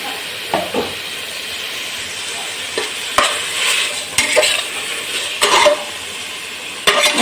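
Green chilies, mint, coriander and curry leaves sautéing with ginger-garlic paste in a pan for chana pulao: a steady near sizzle punctuated by several sharp utensil knocks and stirring scrapes, with no speech.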